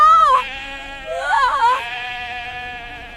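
Sheep bleating up close, two loud wavering calls with a pause between them, followed by a fading tail of sound.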